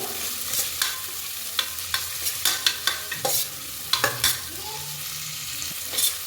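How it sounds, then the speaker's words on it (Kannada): Onions fry and are stirred in a pan for a green chicken dish. A constant sizzle carries repeated sharp spatula scrapes that come in quick, uneven strokes close by. "ಚೆನ್ನಾಗಿ ರೋಸ್ಟ್ ಆಗೋ ಗಂಟ ಫ್ರೈ ಮಾಡ್ಕೊಳ್ಳಿ"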